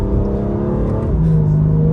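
A 2021 BMW M2 Competition engine pulls under partial throttle, a loud, steady drone whose pitch climbs as the car accelerates.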